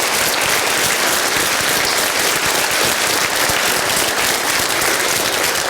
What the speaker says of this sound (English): Michael, would you stand up so we can give you a round of applause?